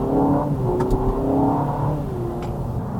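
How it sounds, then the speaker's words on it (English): The engine of a 2025 Honda Civic Hybrid, which drives a generator powering the electric motor, hums and rises in pitch as the car accelerates, steady and fairly loud from inside the cabin. "The engine supplies the generator, which supplies the electricity for the motor that drives the wheels."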